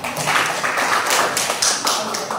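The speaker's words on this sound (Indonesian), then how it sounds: "Bagus, tepuk tangan untuk kita." A school class claps their hands together during a chemistry lesson on acids and bases, a quick burst of rhythmic, fairly loud group clapping with a few distinct sharp slaps.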